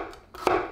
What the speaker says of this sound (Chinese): 青椒横刀切丝